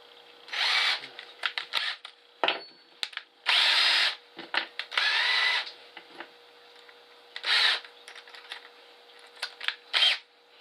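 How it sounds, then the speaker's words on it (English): A power drill bores a hole while making a homemade ball starter, in several short high-pitched whirring bursts of varying length separated by pauses and small handling clicks, close and fairly loud, with no speech. "I'm going to drill my other one now"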